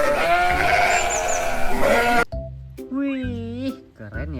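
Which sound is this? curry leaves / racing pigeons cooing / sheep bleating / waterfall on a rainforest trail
sheep bleating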